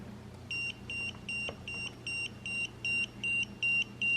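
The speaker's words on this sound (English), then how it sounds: "So they say that the beeping in the red is not safe levels." A cheap EMF reader held near a computer beeps in a steady, even series of about ten short electronic tones, clear above a quiet hum.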